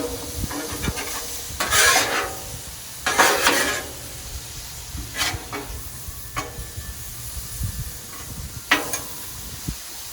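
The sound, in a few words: beef steak frying on a Blackstone griddle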